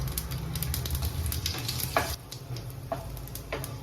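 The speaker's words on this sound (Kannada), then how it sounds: "ಇವಾಗ ಸಾಸಿವೆ ಚಟಪಟ ಅನ್ನತ್ತವು" Mustard seeds crackle in hot oil in a pan, a dense close sizzle spiked with quick popping crackles and a few sharper snaps, with no speech.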